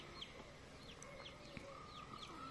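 Hens in a breeding pen cluck and call in short, scattered bursts, with a frizzle hen among them answering; the calls sound faint and distant over a soft background hiss.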